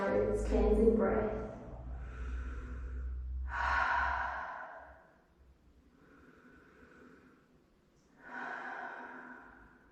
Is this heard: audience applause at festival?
no